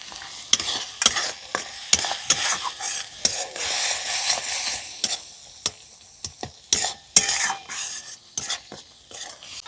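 A spoon stirs pizza sauce with tomato sauce in a pan, scraping in quick irregular strokes over a soft sizzle, close up and without any talking.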